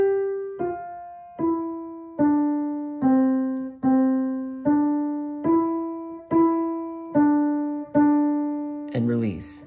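A musical phrase played legato, each sustained pitched note flowing straight into the next without gaps, about a dozen clear tones stepping through a melody, ending in a brief burst of other sound.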